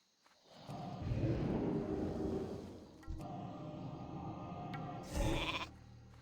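Sheep bleating from a mage's polymorph spell in World of Warcraft, a loud, wavering game bleat running for several seconds, then a brief bright burst near the end.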